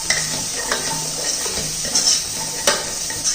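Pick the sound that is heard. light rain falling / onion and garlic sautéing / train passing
onion and garlic sautéing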